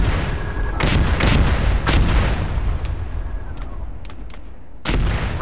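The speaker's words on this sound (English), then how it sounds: "mortars." Mortar fire in a military video game, a barrage of heavy booms and sharp cracking blasts in quick succession, with several distant thuds between louder nearby impacts.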